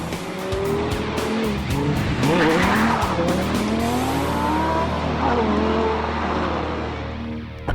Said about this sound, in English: The brakes, for example, bring breathtaking stops that measure 34 meters from 100k.